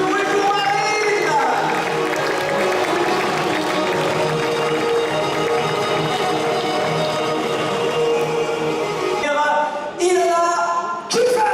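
A crowd at a women's handball club's official team presentation, with new logo and jerseys, cheers and applauds steadily for a player being introduced, a dense sustained roar that breaks off briefly near the end before resuming.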